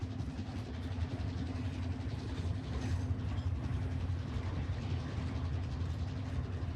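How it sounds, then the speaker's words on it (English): A train arrives in the game Warzone, a continuous heavy mechanical rumble with a steady low hum and rattling, clanking wheels, moderately loud and unbroken throughout. "Train is here."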